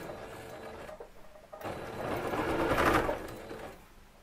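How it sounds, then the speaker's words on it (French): A sewing machine stitches fabric in short runs, making a rapid mechanical whirr that stops briefly, restarts, swells, then fades, heard up close with no speech. "Je pique, j'avance de 3 points pour pouvoir faire mon point d'arrêt"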